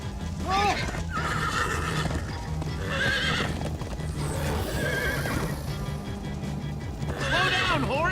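Horses in the Minecraft Story Mode video game gallop with steady clip-clop hoofbeats and neigh repeatedly over a continuous busy game soundscape, loud and close throughout.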